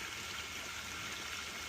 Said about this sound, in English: I see a small waterfall